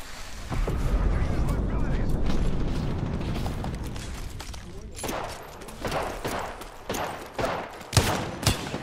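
An airstrike bombardment in the Apex Legends video game sets off a loud, rumbling barrage of explosions and gunfire, heaviest in the first seconds and then breaking into sharp separate blasts, with a voice talking over it.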